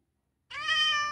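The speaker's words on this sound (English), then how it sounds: "Well, there's a cat." A cat in Minecraft gives a single clear, bright meow after a moment of silence, close and alone.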